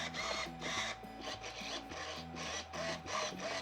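Servos on an RC plane whir in short repeated buzzing bursts as they move the elevator control surface back and forth, close and steady, with no voices.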